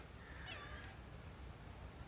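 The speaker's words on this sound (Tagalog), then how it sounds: "May pusa dito, sobrang taba." A very fat house cat meows once, soft and slightly distant, then quiet background noise follows, in a quarantine home setting in the Philippines.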